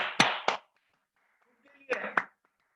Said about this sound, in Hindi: चलिए अपने लिए एक बार जोरदार ताली हो जाए।